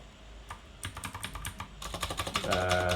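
Rapid clicking keystrokes on a computer keyboard while entering a PostgreSQL query, starting sparse and speeding into a dense run of close, crisp taps, with a steady tone rising underneath near the end.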